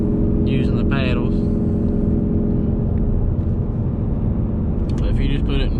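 A 2018 Ford Mustang GT with long tube headers cruises in sport mode, its exhaust a steady low rumble under road noise while a voice talks over it.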